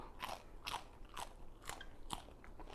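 Close, steady crunching and chewing of Thai food during a meal, with repeated crisp bites at a regular pace and no talking.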